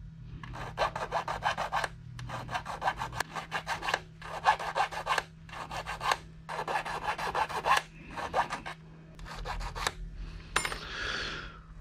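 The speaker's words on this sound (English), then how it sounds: "Now I just need to deburr them all." A hand file deburring small cut metal hinges for a 1/14 scale lowboy trailer, about ten bursts of quick rasping strokes separated by short pauses, close and fairly quiet, with a steady low hum beneath.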